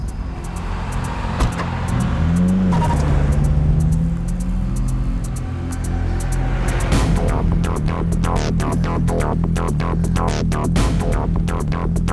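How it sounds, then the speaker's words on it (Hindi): A car engine starts and revs with a low, steady rumble, a rising whine midway, then rapid clattering bursts as it idles and pulls away, heard close up in a dramatic scene. "चले गाड़ी स्टार्ट कर।"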